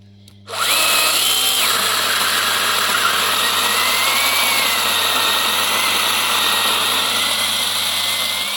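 An AL-KO mini saw starts up and runs with a steady, high motor whine while cutting small cherry tree branches, loud and close, holding its pitch for several seconds with no talking.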